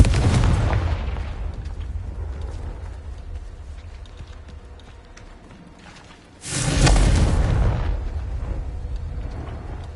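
Fiery blast spells from Hogwarts Legacy's Dark Arts combat burst out as two loud booming explosions, one at the start and another around the middle, each followed by a rumbling whoosh that fades into quieter background noise.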